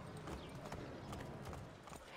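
Horse hooves clip-clop in an Assassin's Creed video game, a quick, even run of sharp hoofbeats on hard ground, fairly close, with no talking.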